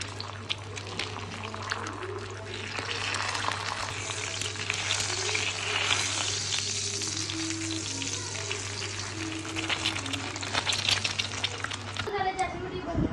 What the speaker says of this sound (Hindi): और साथ ही अंडे फ्राई कर रही हूँ